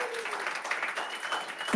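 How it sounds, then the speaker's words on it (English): Short round of audience applause at an event, many hands clapping in a lively patter for under two seconds, with a faint voice mixed in. "Do a round of applause"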